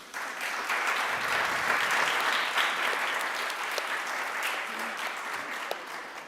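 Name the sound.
audience applause at a conference panel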